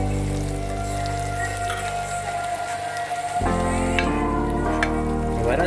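Rice going into a hot pan for Gujarati vagharela bhat, tempered rice: a continuous close sizzle and crackle that swells and thickens partway through, with steady tonal sounds running underneath and no talking.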